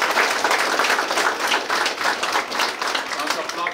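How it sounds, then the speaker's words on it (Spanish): A crowd at a religious festival for Santiago Apóstol in Santa María Yolotepec claps steadily together, a sustained wash of applause with a loose rhythmic pulse, mixed with voices underneath. "Danos aplausos, Señor Jesús, en esta tarde."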